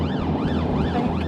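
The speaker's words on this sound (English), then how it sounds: "you've got your blue lights and sirens going" A police car siren on a motorway wails loudly and close by, rising and falling in quick repeated cycles over the road rumble of the vehicle.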